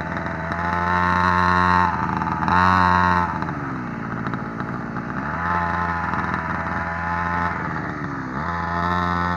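A children's 49cc mini motorcycle ridden by a young child drones close by with a buzzy engine note, revving up and easing off in repeated surges.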